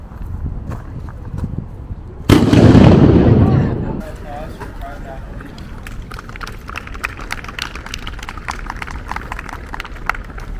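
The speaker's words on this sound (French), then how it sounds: "Je suis arrivée juste à temps pour voir une démonstration de tir d'artillerie." Artillery firing demonstration at a historic site: a single loud cannon blast fires at close range and its roar rolls off over a couple of seconds, followed by crowd murmur and distant voices.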